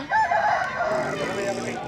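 A rooster crows loudly and close by, one drawn-out call lasting nearly two seconds.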